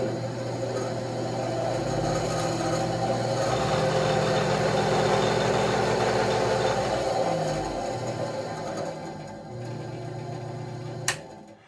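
A treadmill motor drives a homemade bandsaw, producing a close, steady electric whine and hum that rises as the speed knob is turned up, then eases off, ending with a sharp click.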